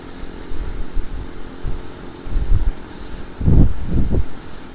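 A motorcycle is ridden at speed, its engine note rising and falling in bursts under rushing wind buffeting the microphone, loudest toward the end.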